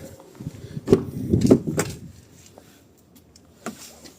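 A 72 kW e.Deliver9 electric van's sliding side door rolls along its track and thunks shut, followed by a lighter click a few seconds later.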